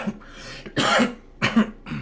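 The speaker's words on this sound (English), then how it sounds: "that cough is not gone away" A few harsh coughs, about three bursts spaced across two seconds, close and fairly loud, with quieter rasping breaths between them.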